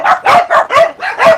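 Caged dogs on a South Korean dog meat farm bark loudly and close by, six sharp rapid barks in quick succession.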